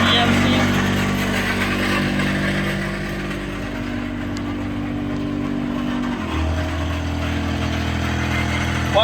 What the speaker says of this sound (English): You can see the outrigger going up.